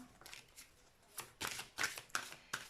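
Tarot cards are shuffled and drawn close up, a handful of crisp riffling bursts and slaps following one another with short pauses, quiet and alone.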